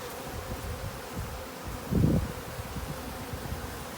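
A strong honeybee colony in an open Slovenian AZ hive in Hawaii gives a steady, close, buzzing drone, with a brief louder swell near the middle.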